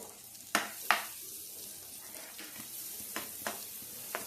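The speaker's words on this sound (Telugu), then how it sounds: "ఈ ఆనియన్స్ కొంచెం గోల్డెన్ కలర్లో వచ్చేంత వరకు ఫ్రై చేయాలి." Thinly sliced onions frying in oil for egg tawa masala, a light sizzle with two distinct stirring knocks early on, then fainter intermittent scrapes.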